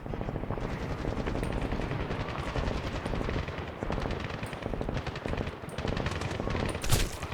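Automatic gunfire rattles in the video game Medal of Honor (2010) as fast, sustained bursts of shots crackle over a dense battle rumble, steady and close throughout.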